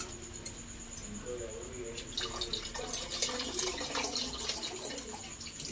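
Running tap water splashes and trickles steadily over tamarind being washed by hand in a kitchen sink, close and continuous, with some handling noise and a faint voice in the background.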